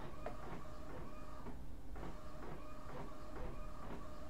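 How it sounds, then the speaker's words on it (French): A worn-out home printer runs alone, its mechanism churning in a steady hum broken by repeated rhythmic clunks and feed strokes roughly every half second. "ça se voit que mon imprimante est un peu fatiguée"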